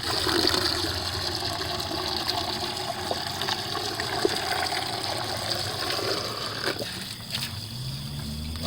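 Water rinsing industrial products off PVC makes a continuous splashing and hissing flow, moderately loud and steady throughout, easing slightly near the end.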